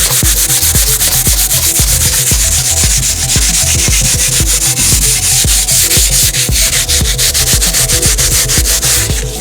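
Sandpaper is rubbed by hand across car bodywork near the fender and hood, a loud, close, continuous scratchy rasp with quick back-and-forth strokes in a steady rhythm.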